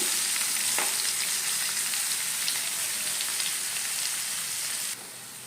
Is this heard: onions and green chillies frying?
yes